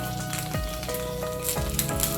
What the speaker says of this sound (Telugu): కొద్దిగా ఆయిల్ వేసుకుంటున్నాను